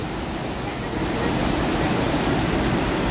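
Dassam waterfall near Ranchi roars with a heavy flow of reddish, muddy water, a loud, unbroken rushing wash that swells slightly after the first second.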